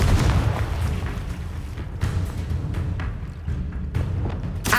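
Confringo blasting-spell explosions in the video game Hogwarts Legacy: dense, booming blasts with sharp bursts recurring every second or two over a continuous rumbling combat din.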